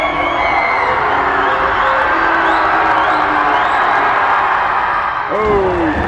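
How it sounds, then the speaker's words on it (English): Crowd in a high school boys basketball gym during a free throw, a continuous loud roar of cheering, whooping and shouting, with a commentator talking over it. "The crowd very involved."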